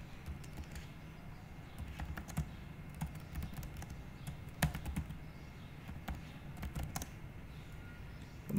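Close keystrokes on a computer keyboard while entering a heading in a word-processing document, irregular bursts of clicks and taps with brief pauses, soft and near.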